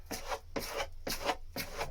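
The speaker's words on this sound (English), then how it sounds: "Scrape it off the sides." Filler being scraped off the sides of a motorcycle fairing, four even rasping strokes in a steady rhythm, close and moderately loud with no talk.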